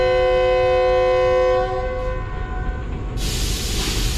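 A Green Line Express train pulling out of Dina Jhelum railway station, a long sustained horn blast sounding close and loud before fading, followed by low rumbling and a sudden hiss of air.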